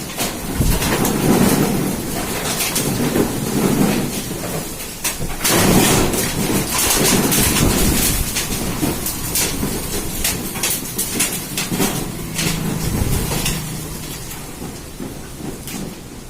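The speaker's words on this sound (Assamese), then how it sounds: "ইমান বতাহ মাৰিছে নহয় টিংপাতো পুৰা হিলাই দিছে দোকানৰ" Strong wind rattles and shakes the loose tin roof sheets of an old shop, gusting roar with irregular metallic clatter and bangs, close and loud, no talking.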